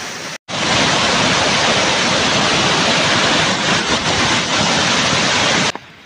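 Chelimichenu waterfalls pour with heavy flow in a loud, continuous broadband roar of crashing water, close and steady, with no voices.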